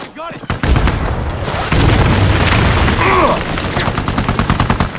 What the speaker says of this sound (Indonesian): Tiba-tiba suara ledakan mengguncang udara.